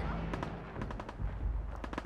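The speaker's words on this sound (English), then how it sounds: "Can I hear shooting? Yes, I most certainly can hear shooting" Gunfire from the video game Fallout 4 crackles in rapid, repeated bursts over a dense, rumbling game soundscape, fairly faint and with no talking.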